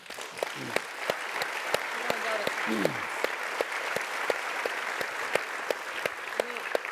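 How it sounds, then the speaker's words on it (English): An audience at a business talk claps for graduating students, a steady wash of crowd applause with sharp individual claps standing out, while a voice speaks briefly over it. "we should clap for that"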